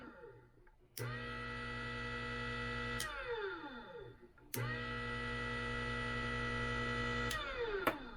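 A Hornady 3-in-1 high speed case trimmer motor spins up twice, each run a steady whining hum with tonal overtones lasting a few seconds before winding down, fairly quiet and close, with no speech.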